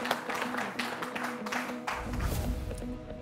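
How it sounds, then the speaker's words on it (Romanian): Applause rises to welcome the ladies on a family World Cup television show. The clapping is steady and fairly close, with sustained tones running beneath it, and grows fuller toward the end. "să le primim cu aplauze pe doamne"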